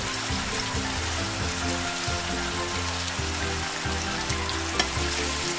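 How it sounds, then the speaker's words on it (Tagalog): Beef sizzles in a pan with soy sauce, calamansi and liquid seasoning, a dense continuous frying hiss at close range, with no talk over it. "Para habang piniprito po siya,"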